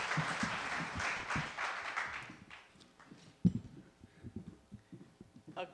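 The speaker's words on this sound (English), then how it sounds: "I would love to have you applaud for Marpessa" Audience applause for Marpessa at a talk, a burst of clapping that swells over the first two seconds and then tapers into scattered claps and quieter room noise.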